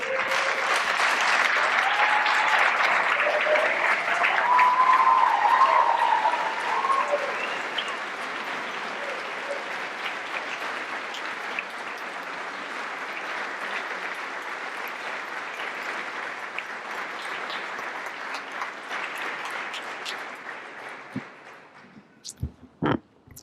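Sustained applause from a large audience at a PhD white lab coat ceremony, dense and steady clapping that fades out near the end.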